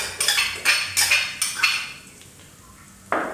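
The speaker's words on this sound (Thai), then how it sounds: "เสร็จแล้วเราก็เอาสามเกลือลงไปผัดเลยครับ" A utensil scrapes and clinks rhythmically against a pan while garlic, coriander root and pepper paste stir-fry in a little oil over low heat, about five sharp taps followed by a quieter stretch and one last scrape.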